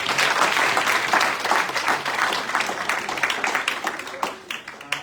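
An audience at a student government presidential debate applauds the candidates, steady loud clapping from a full crowd that slowly thins and tapers toward the end.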